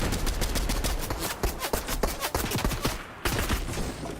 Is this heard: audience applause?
no